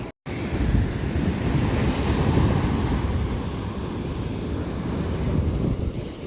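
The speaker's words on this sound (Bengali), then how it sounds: "সমুদ্রটা দেখো, দারুণ সমুদ্র।" Sea waves at Mandarmani beach, a continuous close roar of surf with heavy wind buffeting the microphone, steady and loud with no speech.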